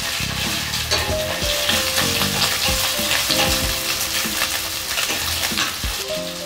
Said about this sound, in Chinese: 我现在来炒韭黄虾仁，先来爆香， 接着放虾仁，